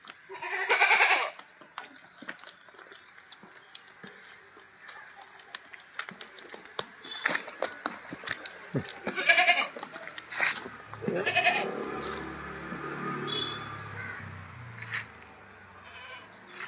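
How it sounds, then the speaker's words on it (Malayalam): Dairy goats, a mother with young kids, bleat in short irregular calls around a farm yard, with scattered clicks and patter and some voices between the cries. "ഈ വെള്ളയും തവിട്ട് നിറം കാണുന്നത് മുട്ടനും, ഈ ചെവിമ കറുപ്പുള്ളത് പെടക്കുട്ടി കേട്ടോ. നല്ല പാലാടാണ്."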